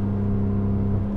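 A BMW G8x M3/M4 with an equal-length exhaust and downpipes, active exhaust valves open, drones steadily and loudly at close range, its low exhaust note holding a deep hum with a slight lift near the end.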